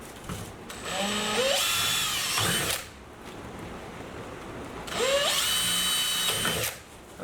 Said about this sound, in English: 3mm drill bit. Just pop some holes in there.